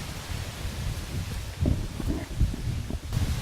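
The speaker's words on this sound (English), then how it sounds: "And the wind is picking up." Wind picks up across a vegetable garden, with soft broadband rustling of leaves and brush that swells in small gusts, fairly close and moderately loud, with nobody talking.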